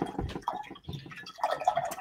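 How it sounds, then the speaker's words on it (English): A paintbrush rinsed in a cup of water gives soft, close dripping and swishing splashes in short irregular bursts, faint and with no voice. "I'm going to rinse clean this brush."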